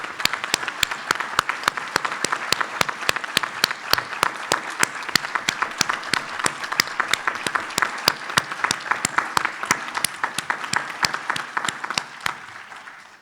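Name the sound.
audience applause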